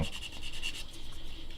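A file rubbing back and forth across a small styrene plastic part of a USS New Jersey model, quick soft rasping strokes in a close, quiet, steady rhythm with no voices.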